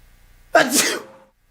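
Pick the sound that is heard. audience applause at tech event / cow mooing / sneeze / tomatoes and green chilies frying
sneeze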